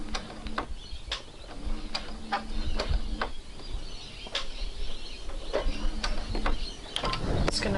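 Home sewing machine back stitching on a New Look 6575 garment, clattering in short bursts of rapid mechanical ticks separated by brief pauses, close and steady with no talk.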